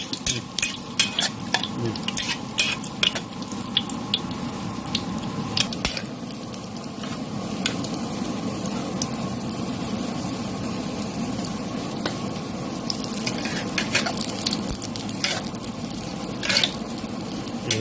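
Ice cream frying in a pan of hot oil, giving a steady dense sizzle and bubbling with scattered sharp crackles and pops throughout, close and fairly loud with no talking.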